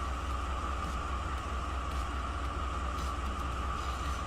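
A heavy freight train with a distributed power locomotive rolls through the Tehachapi Mountains, giving a steady, fairly distant rumble and wheel roar with a sustained mid-range drone and no break throughout.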